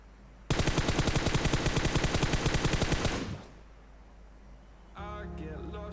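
Sustained automatic gunfire in a mobile shooter game blasts in a rapid, loud, even stream for nearly three seconds, then stops, leaving a low background hum before another game sound starts.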